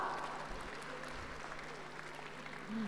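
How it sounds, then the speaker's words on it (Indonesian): Quiet applause from a crowd at a university anniversary celebration, a diffuse patter of clapping heard from afar at low volume, with a faint voice briefly audible near the end. "Okey, tepukan untuk semua."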